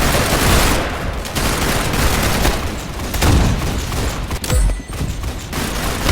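Dense, continuous bursts of rapid gunfire fill a round of the Roblox Arsenal game, loud and close with overlapping shots and booms and no clear pauses throughout.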